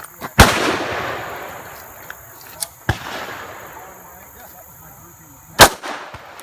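Gunshots from a handgun fired at an outdoor shooting range: one loud, sharp report near the start and another near the end, with a few fainter distant pops between, no talking.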